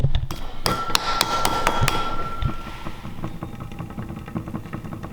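A noisy Wahoo KickR V4 smart bike trainer runs with a steady mechanical hum, overlaid by sharp repeated ticking and knocking clicks in an irregular rhythm, close and fairly loud.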